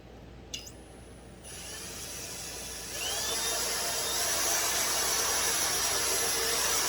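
A high-pitched power drill whines steadily, spinning up after a brief start and growing louder, with a constant grinding hum and no talking, as it bores into a ported Husqvarna 55 chainsaw cylinder.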